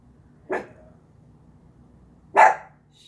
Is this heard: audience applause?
no